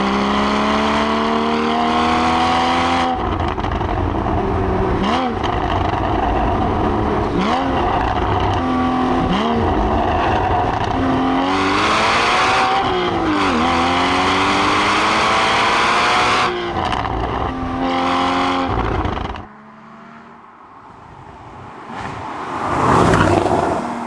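Porsche 981 Boxster Spyder flat-six engine revving hard, its sharp rising-and-falling howl climbing through gears with loud roars, then passing by before a quieter stretch and a final swelling whoosh, with no talking.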